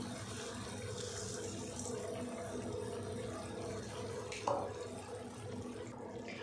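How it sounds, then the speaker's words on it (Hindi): Water pours steadily into a cooking pot holding masoor lentils and rice for a vegetable pulao, a continuous close splashing rush with a brief louder splash near the end. "हम इसमें पानी ऐड कर देते हैं"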